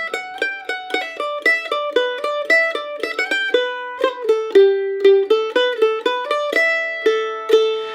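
Mandolin playing the hornpipe "The Boys of Ballycastle" in even, straight eighth notes: a bright, steady stream of plucked single notes with ringing sustain, close and clear, with no voice.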